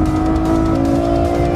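A Ferrari F12 Berlinetta's engine pulls hard under acceleration, a loud sustained tonal roar with steady harmonics, close and without talk.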